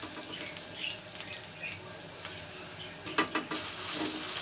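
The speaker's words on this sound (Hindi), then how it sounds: "बन को मैंने हाफ कर लिया है और इसी हम मसाले में इसको अच्छे से फ्राई कर लेंगे।" Halved buns frying in kaleji masala on a tawa, giving a steady close sizzle with a few light scrapes and clinks of a spatula near the end and no talking.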